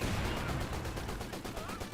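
Vickers machine gun firing in Company of Heroes 2, a dense, steady rattle of rapid repeated bursts that runs the full two seconds inside a busy battle din.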